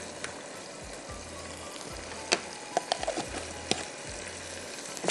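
Marinated chicken with onion sizzles in hot oil for a Dhaka-style roast, a quiet, steady crackle broken by sharp pops and light scraping of a spoon stirring in the pan.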